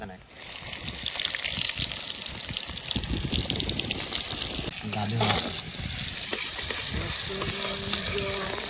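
Medium onions frying in a pan for an outdoor riverside Bengali village-style meal, with steady broadband sizzle and stirring scrapes throughout, a few clinks near the end, and some voices faintly in the background.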